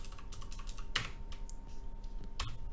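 Someone types on a computer keyboard, with rapid clicky keystrokes close by, a few heavier key presses standing out, over a faint steady hum.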